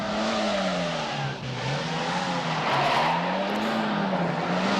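Car chase scene from the film Marked for Death, with engines roaring and tires skidding and squealing continuously, loud and close, swelling and dipping as the cars swerve, with no talk.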